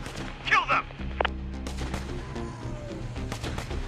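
Gunfire in the Infection Free Zone video game as survivors shoot at infected, a few sharp bursts of shots followed by a steadier rumble of continued firing, with a voice talking over it.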